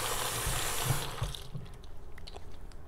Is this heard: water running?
yes